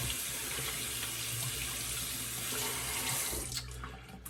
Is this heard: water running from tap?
yes